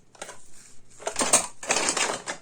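A plate clatters and scrapes against other hard objects nearby, in quick bursts of clinking with short pauses.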